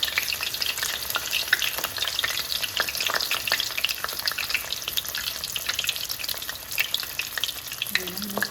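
Rolls frying in hot oil for an iftar meal, a dense, close crackling sizzle with sharp pops and spatters running steadily throughout.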